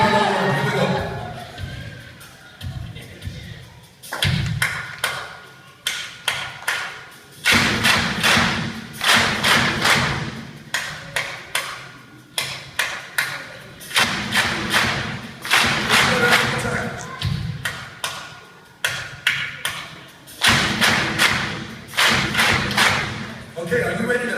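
Rhythmic group clapping in bursts, sharp repeated claps in steady patterns with short pauses between phrases, loud and close, at a church worship gathering.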